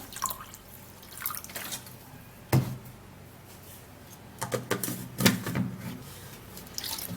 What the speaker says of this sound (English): And then I'm gonna be putting in water.